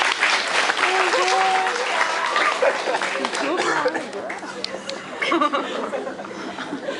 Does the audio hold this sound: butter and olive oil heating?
no